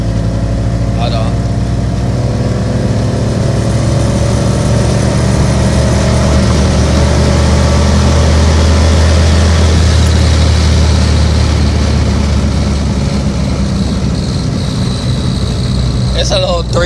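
A BMW E36 fitted with a Foxbody engine, its throttle body in need of repair, runs with a steady, loud, low engine drone that holds throughout, while a voice talks over it.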